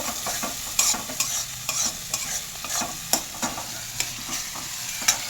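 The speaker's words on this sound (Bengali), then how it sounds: "লঙ্কা গুঁড়ো দেওয়ার পরে আমি দেবো হলুদ গুঁড়ো, দিয়ে আমি এটাকে নাড়িয়ে নেব" Chili and turmeric powder being stirred into a hot pan for a mixed vegetable paneer dish: repeated close spatula scrapes and taps over a steady light sizzle, with no talking.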